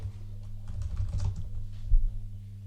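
Keys tapped on a computer keyboard, including a Ctrl V paste shortcut, sound as a few quick close clicks over a low steady hum, with no voices.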